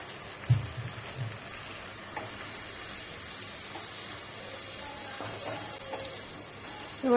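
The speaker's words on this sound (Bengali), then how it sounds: "একটুখানি জল দিয়ে দেবো।" A splash of water hits hot ground cumin, coriander and Kashmiri chili powder in a pan for vegetarian jackfruit curry, setting off a steady sizzling hiss after a few clinks of utensils.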